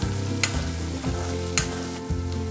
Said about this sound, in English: So fry it in the oil till the raw aroma diminishes.